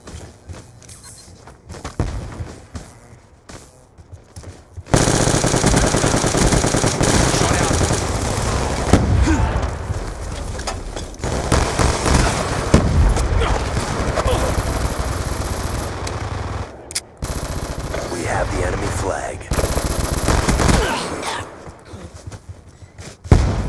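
Explosive charges and gunfire in a Call of Duty: Black Ops II multiplayer match, with dense, sustained bursts of automatic fire and thumping blasts over a long stretch, a voice occasionally heard amid the din.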